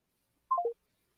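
Telephone keypad tones from pressing 1, a quick descending cluster of three short electronic beeps lasting about a quarter second in otherwise silent surroundings.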